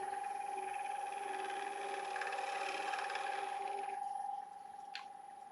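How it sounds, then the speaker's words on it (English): A small cloth rubbed against a spinning ash bowl on a wood lathe to melt beeswax into it: a steady whirring friction hum with a faint tonal whine that drops in level near the end, followed by one brief sharp tick. "A little tiny piece of cloth just to heat up and melt that wax into the wood."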